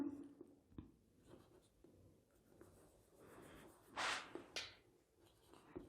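Writing on a board during a university inorganic chemistry lecture: scratchy strokes come in short bursts with brief pauses, growing louder and busier near the end, with no talking over them.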